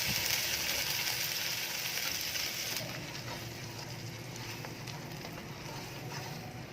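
Two tablespoons of butter and three of ghee melt in a pan, giving a soft, steady sizzle and hiss that is louder at first, then settles into a quieter, even crackle, with no talking.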